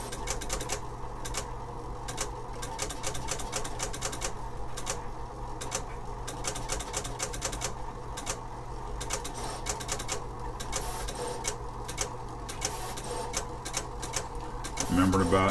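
An HP ColorPro pen plotter draws on white paper, making a fast, busy stream of ticking and chattering pen and carriage movements that continues steadily with short pauses.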